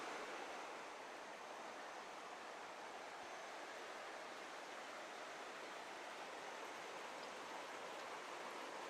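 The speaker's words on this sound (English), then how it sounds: "show you the water, little stream down here." Small stream flowing through a garden in Kauai, Hawaii, a steady soft rushing hiss of water that stays even and unbroken throughout, quiet and with no voices.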